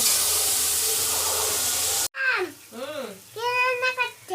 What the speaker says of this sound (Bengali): মটরশুঁটি ভাজছি